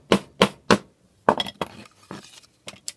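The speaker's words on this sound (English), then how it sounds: "and give it lots of hammering." Hammering a bent tin edge down onto a wooden backing: three sharp, evenly spaced metallic strikes, then a looser run of lighter taps and clinks, close and alone.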